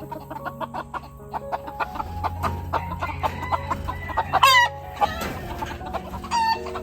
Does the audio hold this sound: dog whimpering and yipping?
no